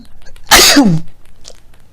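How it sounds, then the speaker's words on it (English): A single loud, sudden sneeze bursts out close up, a sharp explosive blast trailing into a falling breathy tail, then quiet. "Oh, I'm about to sneeze, y'all."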